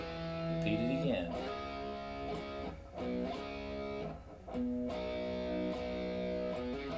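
Electric guitar playing a riff with a gritty, distorted tone, notes hammered and repeated in a chugging rhythm, played close and fairly loud.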